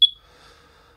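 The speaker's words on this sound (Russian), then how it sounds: "на которой сработает у нас пищалка" A Protrac2 audible altimeter for skydiving gives a single short, shrill electronic beep at the start, then falls quiet with only a faint background hum.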